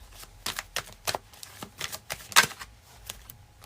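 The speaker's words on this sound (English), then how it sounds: "Quick shuffle for Saturn energy for Leo." Tarot cards shuffled by hand, a run of quick, crisp riffling slaps and flicks in an uneven rhythm, close and fairly soft, with no speech.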